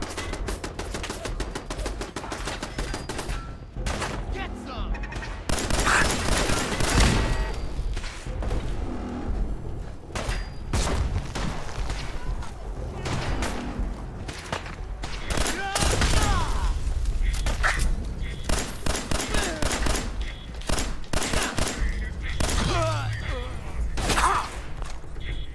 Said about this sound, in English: Where are these guys shooting at me from?